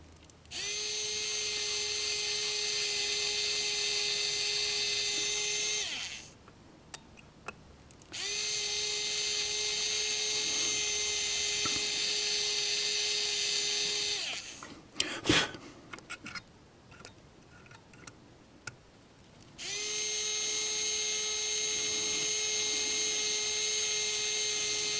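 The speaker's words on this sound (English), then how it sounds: "I'm going to drill the other side." A power drill bores into a Proto2000 GP30 model locomotive shell in three long, loud, steady whirring runs, separated by quieter pauses with handling clicks and knocks.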